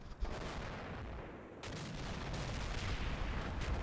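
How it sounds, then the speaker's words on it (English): Artillery barrage in a wargame, a sharp blast followed by a sustained broadband rumble of explosions that swells and stays loud after a brief lull, with no talk over it. "call in some artillery"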